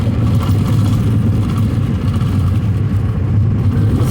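A vehicle drives through heavy rain on the Cajon Pass beside a tractor trailer throwing up spray, producing a loud, continuous low road and engine rumble mixed with rushing water noise, steady throughout.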